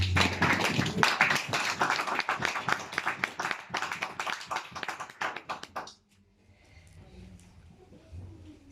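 A church congregation claps hard and fast for about six seconds, a dense crowd of hands with voices mixed in, then it stops abruptly and only faint room murmur remains.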